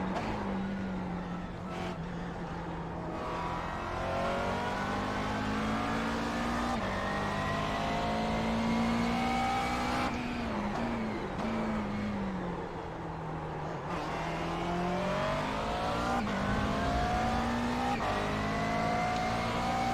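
Race car on a track, its engine revving up and down through repeated rising pitch sweeps as gears change, loud and continuous with faint tire squeal and no voices.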